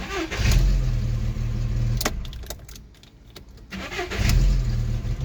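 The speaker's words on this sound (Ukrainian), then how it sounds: "Перевіряємо, вимикаємо швидкість і як заводиться" A Skoda Octavia engine starts after repair: a starter crank and catch, a steady running engine with a brief quieter dip midway, then a second start and loud rev, with some jangling keys.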